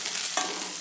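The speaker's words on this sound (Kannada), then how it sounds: "ಈಗ ಒಣಮೆಣಸಿನ್ಕಾಯಿ ಹಾಕ್ತೀವಿ, ಸ್ವಲ್ಪ ಕ್ಲೀನಾಗಿ ಫ್ರೈ ಹಾಕ್ತೀವಿ" Dried red chillies frying with onion, garlic and tomato in a pan, giving a soft continuous sizzle with one brief stir near the middle, close up and brief.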